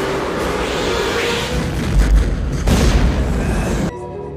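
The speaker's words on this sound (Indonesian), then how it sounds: "Mereka mencoba menghentikan monster itu dengan menggunakan granat." A grenade explosion in a monster film, a loud, rumbling boom with heavy low-end swells and a sustained roar that cuts off abruptly near the end.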